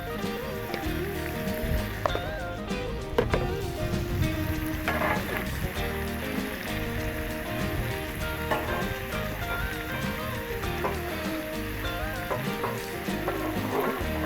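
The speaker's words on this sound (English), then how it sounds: "let's get our omelet cooking here" An omelet cooks on a Blackstone griddle, giving a steady, even sizzle that runs throughout under background music.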